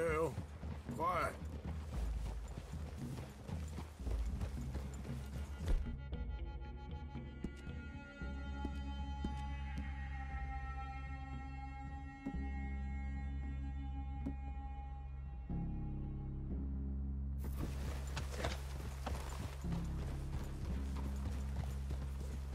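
Horses' hooves clip-clop at a walking pace in Red Dead Redemption 2, steady and close over a low musical score, with quiet voices and a faint whinny now and then.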